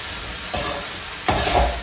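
Bhujia vegetable stir-fry with turmeric and green chili sizzling steadily in a pan, with two scraping stirs of a spatula rising over the constant close frying hiss.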